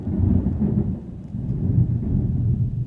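Low rumbling thunder rolls on for about three seconds, a deep sustained boom that swells and recedes, heard during a thunderstorm from indoors with no voices.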